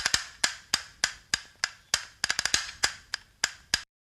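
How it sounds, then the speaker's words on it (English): Castanets clack in a quick, crisp run of sharp wooden clicks, mostly evenly spaced with a fast flurry in the middle, close and alone before stopping. "Next is castanets."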